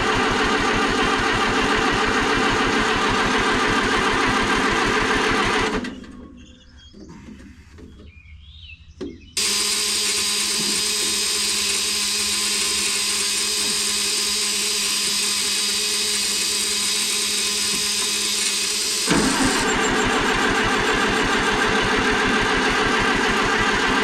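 An Oliver 550 tractor engine cranks over and over in long, loud, steady runs, pausing briefly before churning again without catching; a carburetor fuel problem is suspected.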